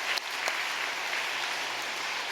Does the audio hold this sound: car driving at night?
no